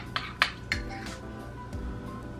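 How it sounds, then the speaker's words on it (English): Minced chili sauce with garlic stirred together in a bowl, a few light clinks of a utensil against the dish near the start, then soft scraping under a low kitchen hum. "Mix that together."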